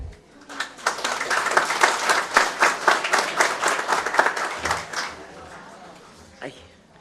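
Applause from the audience at a public hearing on the reality of the elderly, a burst of clapping lasting several seconds before fading, with a voice speaking briefly at the start.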